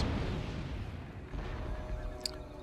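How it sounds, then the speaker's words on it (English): Cannon artillery fire from a British line of battle in Empire Total War, a dense low rumble of distant booming shots that runs without a break, with one sharper crack near the end and no talk. "we've got our cannons opening up from wherever they may be placed along the line"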